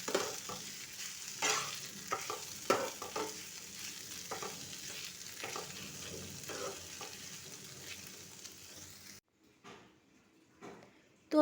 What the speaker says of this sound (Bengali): ভালো করে নাড়াচাড়া করে নামিয়ে নিন।